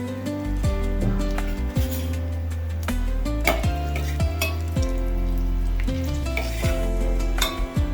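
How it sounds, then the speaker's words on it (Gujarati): Cumin, fenugreek, asafoetida, bay leaf, clove and cinnamon crackle and sizzle loudly in hot oil for green onion kadhi, a continuous close fry with scattered pops and occasional metal stirring clinks. "હવે જીરું ને એ બધું કકડાઈ ગયું છે"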